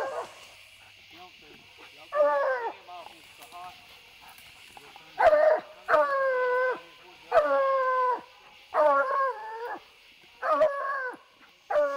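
Coon hunting hounds bay at a tree in a wooded area, a run of loud drawn-out bawling howls in repeated bursts over several seconds, with quieter distant barks between.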